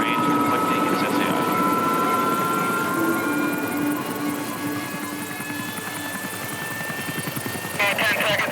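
A Piper Super Cub light aircraft holds a steady, loud engine drone with a propeller buzz through its run-up, heard from close by in the cockpit, with someone talking over the engine on the radio.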